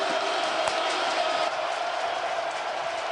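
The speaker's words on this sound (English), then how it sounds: "we hear the crowd getting louder and louder and louder, especially on a critical 3rd and long" Dense stadium crowd roar at an XFL football game, Orlando Guardians at St. Louis BattleHawks, a steady wash of noise that holds loud throughout with faint cheering within it.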